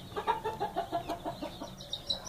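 Free-range hens with chicks clucking in a backyard, a steady series of rhythmic clucks at moderate distance, followed by a few higher peeps.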